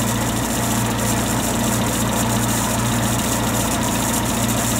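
A 1.3L Suzuki Samurai engine idles steadily at about 800 RPM, a loud, even, low mechanical rumble with slight vibration and no talking.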